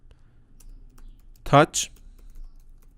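A few quick keystrokes on a computer keyboard come as a short, close burst of clicks in a quiet room, while a voice speaks briefly.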